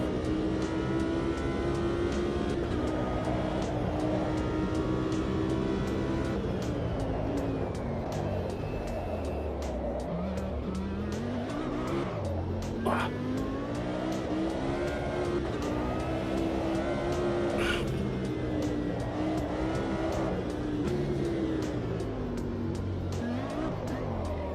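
A race car engine drones and revs continuously while the car drifts in Automobilista 2 sim racing, its pitch swinging up and down through throttle changes, loud and close throughout with occasional tyre or gear noises.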